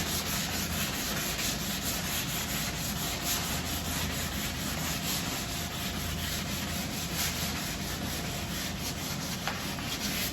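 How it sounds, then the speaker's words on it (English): Steady, close rubbing of 120-grit sandpaper wrapped on a foam block against a door edge, a continuous scratchy rasp with a soft back-and-forth rhythm and no talk. "Now I'll just take my sandpaper. I'm going to start off with a 120, and I just have a little styrofoam block to hold that for me."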